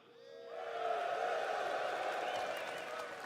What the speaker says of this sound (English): this is where you're all going to cheer